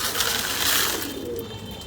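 Pigeons on a farm of over two hundred birds, a soft, close, continuous murmur of cooing and rustling with no talk.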